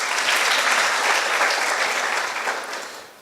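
A crowd claps steadily in dense, even applause for a high school team as competition scores are announced, carrying on for a few seconds before tapering off at the end.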